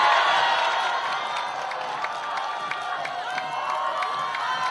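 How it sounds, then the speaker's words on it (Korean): Crowd at an outdoor presidential campaign rally in Daegu applauding and cheering, a continuous loud wash of clapping and shouts with whoops throughout. "여러분 박수로 맞이해 주시기 바랍니다."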